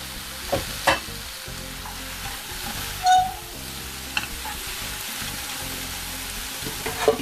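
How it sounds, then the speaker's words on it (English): Browned onions frying in a pan of lentils with mixed peppers and whole spices, giving a steady close sizzle with a few brief stirring knocks and clatters, no voices. "What I'm going to do is throw those onions that I browned off earlier back into there."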